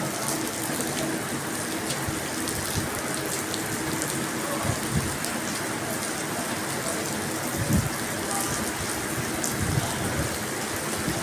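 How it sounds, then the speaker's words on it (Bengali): Heavy rain driven by strong wind pours in a steady, dense hiss with occasional louder gusts and splashes, continuous throughout and close by. "এই মুহূর্তে প্রচুর জোরে বাতাস এবং বৃষ্টি হচ্ছে।"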